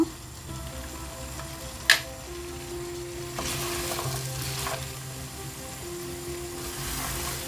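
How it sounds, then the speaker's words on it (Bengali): Boiled chickpeas sizzle steadily in a frying pan for chola bhuna as they are stirred, a soft, close crackle with one sharp utensil clink and occasional scraping swells. "এখন আমি এটার মধ্যে ছোলাগুলি দিয়ে দিচ্ছি।"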